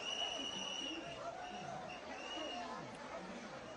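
Crowd at New Delhi railway station after a deadly stampede, a steady murmur of many voices with distant chatter and faint tonal hums, moderately quiet throughout.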